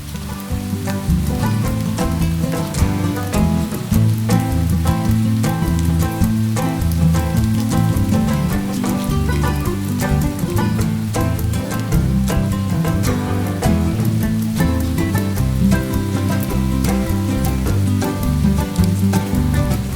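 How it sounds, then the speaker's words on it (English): Steady rain patters densely on nearby surfaces in Bavarian woods at 3 degrees, a loud, constant crackling hiss throughout with no voices. "It is 3 degrees and raining"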